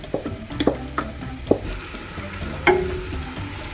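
Potatoes sizzling in a soup pot, releasing their juices: a soft, close frying hiss with a few stirring scrapes and light clinks of the pot.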